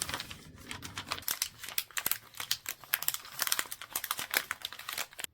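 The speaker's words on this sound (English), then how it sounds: "I went ahead and cut 4 pieces of the same size of the wrapping paper, and I'm going to wrap those up." Double-sided wrapping paper crinkles and rustles continuously up close as small catnip packets are folded and wrapped by hand, with dense irregular crackles and no talking.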